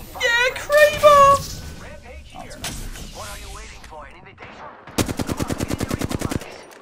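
Kraber sniper and charge rifle gunfire in the video game Apex Legends: a voice shouts over scattered in-game sounds, then a rapid, evenly spaced string of loud shots fills the last seconds.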